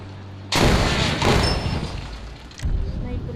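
Gunfire in an Indian bike driving video game: two loud, booming shots ring out and decay, the second burst arriving about two seconds after the first, while a voice talks underneath.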